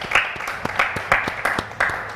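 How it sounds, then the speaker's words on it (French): Studio audience on a French-language television talk show applauding a guest, with a few distinct bursts of clapping from a small crowd, moderately close and fairly sparse. "on applaudit pour Monsieur Aristote."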